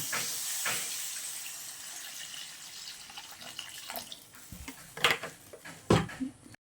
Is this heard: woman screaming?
no